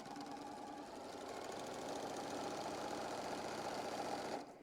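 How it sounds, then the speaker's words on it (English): Stitching a quarter-inch seam on quilt pieces, a sewing machine hums in a steady, rhythmic run, fairly faint and alone, cutting off near the end. "we're going to sew a 1/4 inch from that line"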